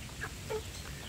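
Kampung chickens in a free-range pen give a couple of quick, faint clucks, brief chirpy calls spaced apart over a quiet background.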